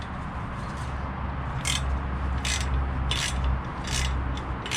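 Bolts being tightened to push a slotted brake disc off its hub, a close mechanical ratcheting and grinding with a continuous low rumble and several evenly spaced bursts of metallic clicking.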